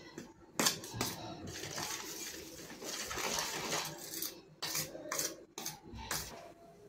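A spoon scrapes and clinks against a bowl while mixing spices and salt into bhajani flour for chakli, irregular close scraping and tapping strokes at moderate level.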